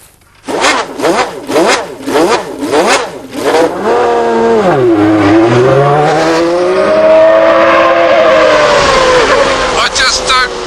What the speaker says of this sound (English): I am in Alain Prost's 1990 World Championship winning Grand Prix Ferrari